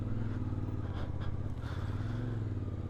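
A CFMOTO Ibex 450 motorcycle rides slowly over rocks off-road, with a steady, close low engine thrum and occasional faint clatters from the rough ground.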